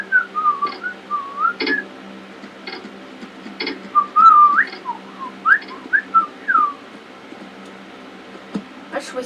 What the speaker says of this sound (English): I could whistle too